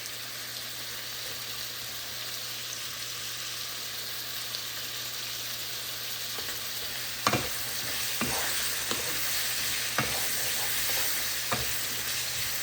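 Potatoes with turmeric and salt fry in a pan, a constant soft sizzle broken in the second half by several sharp clinks and scrapes of stirring, with no voices.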